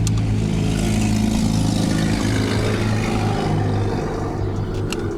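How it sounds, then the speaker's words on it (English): A misfiring car engine runs steadily and roughly while driving, with an uneven, stumbling low rumble throughout, close and loud, with no talking. "I don't think I've ever heard a car miss so bad and still go down the damn road."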